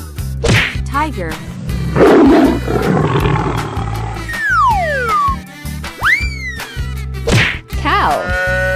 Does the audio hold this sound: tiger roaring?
yes